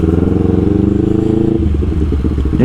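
A Honda CBR250RR engine drones loud and close while riding, a steady buzzing tone that drops as the rider shifts gear partway through, with a pulsing throb after.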